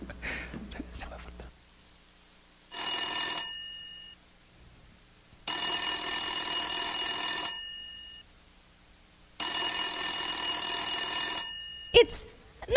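An old-fashioned telephone rings in three long, bright bursts separated by pauses, loud and close, with faint murmuring before it and a brief clatter at the end, during a stage performance of the farce Noises Off.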